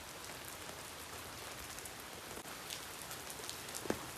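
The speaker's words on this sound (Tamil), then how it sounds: "திடீர்னு மழை நல்லா." Sudden heavy rain pours down in a dense, steady hiss of drops striking a surface, loud and continuous throughout, with a few sharper splats near the end.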